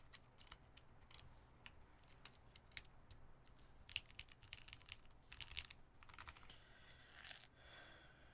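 Quiet, irregular clicks of computer keyboard typing, including presses of the delete and backspace keys, scattered sharp taps over a low background hum with no talking.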